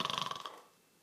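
A man imitates a snore, a quick rattling throaty buzz lasting under half a second, close and fairly quiet, then fading to silence.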